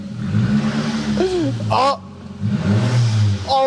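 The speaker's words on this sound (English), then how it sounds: "Oh, listen to the turbo." A VW Fox GTI fitted with a turbo revs in close bursts, a low engine rumble rising and falling twice, with excited talking mixed in.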